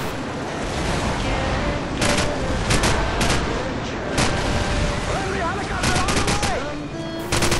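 Rapid gunfire bursts and single shots from a first-person video game shooter match, loud and repeated across the clip with game effects and voices in the background.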